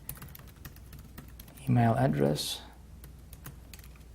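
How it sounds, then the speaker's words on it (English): Fingers type on a computer keyboard in a quick, steady patter of light clicks, running under and around a brief stretch of a man's speech. "I'm not really good at talking and typing at the same time"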